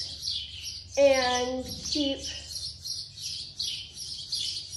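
Busy chirping of small birds in a barn, continuous high twittering throughout with a brief bit of close speech early on.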